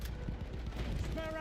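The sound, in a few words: machine gun fire in the video game Battlefield 1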